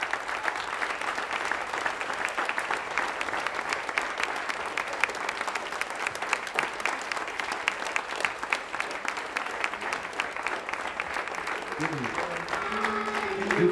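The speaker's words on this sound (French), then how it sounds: "je vous demande avec Antonella, en signe de respect, de vous lever et d'applaudir vos défunts" Standing in a church for the funfair Mass, the congregation applauds its deceased in a long, steady round of clapping, with a voice rising faintly near the end.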